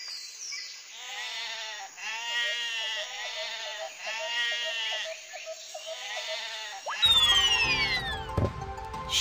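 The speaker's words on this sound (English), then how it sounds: "Sheep." Sheep bleat repeatedly in wavering, quavering cries, followed by a sudden shift to springy, metallic boing-like sounds near the end.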